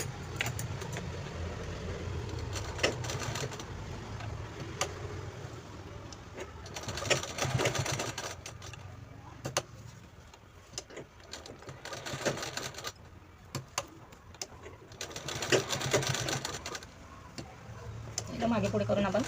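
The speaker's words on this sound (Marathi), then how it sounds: "तर आपल्याला या हँडलला सुद्धा सेम तशी शिलाई लावायची आहे." A sewing machine stitches the handle of a lunch bag made from leftover dress fabric, its fast rattling run starting and stopping in several bursts while a person talks over and between the stitching.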